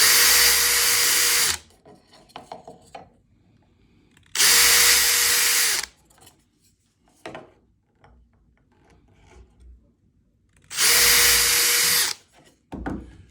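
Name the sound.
power drill pre-drilling holes in wooden crokinole rail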